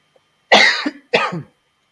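Two loud, close coughs in quick succession from a preacher speaking during a sermon, each a harsh burst with a throaty tail, separated by a short pause and surrounded by silence.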